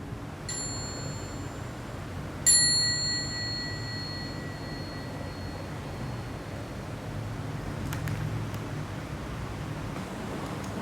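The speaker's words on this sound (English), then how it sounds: "Then maybe I would invite the bell. So we have a small bell." A small mindfulness bell is struck twice in a quiet room, each strike giving a clear bright ding that rings on and fades slowly.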